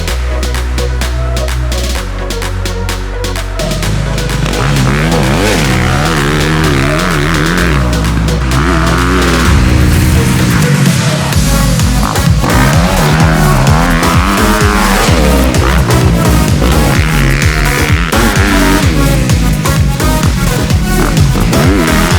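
A vehicle's engine roars loudly and close up on a race track, revving hard and rising and falling in pitch through gear changes, with tire noise mixed in and no speech.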